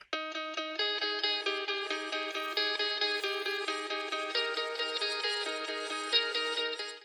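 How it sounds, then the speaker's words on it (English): A plucked electric guitar plays a quick counter melody of evenly spaced, bright notes for about seven seconds with no other sound. "I've introduced a counter melody to the main melody of the guitar"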